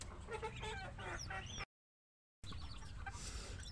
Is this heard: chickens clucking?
yes